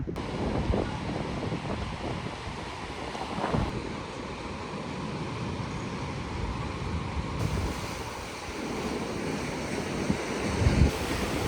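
Ocean surf rolls in at the end of a residential street, a continuous wash of waves mixed with gusty wind buffeting the microphone, with no one speaking.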